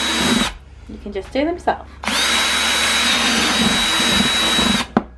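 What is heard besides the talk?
metal drill bit drilling drainage holes in plastic pot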